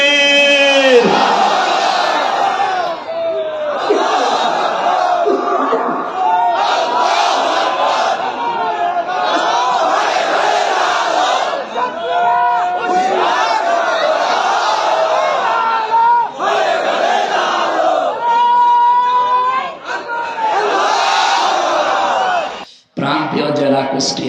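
A huge open-air crowd at a night religious gathering on a high school field in Kushtia roars in unison, loud sustained shouted chants answering a leader's call in repeated waves, a brief dip near the end.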